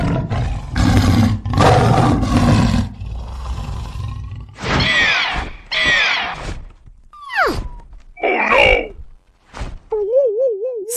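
A tiger's growl used as a comedy sound effect: loud, rumbling roars open the scene, followed by further growls, wails and a wobbling cartoonish tone, with voices talking between them.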